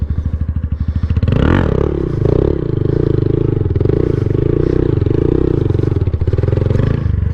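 A Honda Grom motorcycle revs loudly and steadily during circle wheelies, its small engine buzzing close by with brief rises and a rough, rattly edge throughout.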